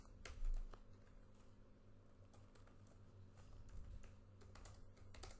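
Fingers typing a message on a computer keyboard, quick soft irregular key clicks in short bursts close by, quiet, with a low hum underneath.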